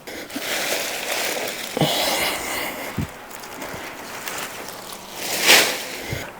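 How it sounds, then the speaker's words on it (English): Water is poured onto a potted plant, making a soft, continuous splashing and trickling with a few small knocks and a brief louder gush near the end, close by and with no talk. "Let me just quickly water this"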